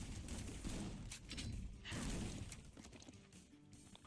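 Gunshots in the indie strategy game ONRAID, a quiet cluster of sharp cracks and thuds layered over a steady background of game noise.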